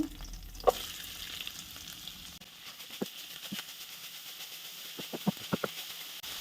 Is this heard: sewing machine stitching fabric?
no